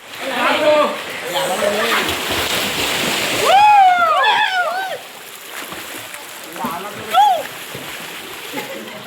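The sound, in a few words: boys swimming and splashing in water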